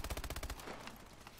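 A gun in shotgun mode in Call of Duty Advanced Warfare Exo Zombies fires a quick run of sharp shots in the first half second, then the sound drops to quieter game noise.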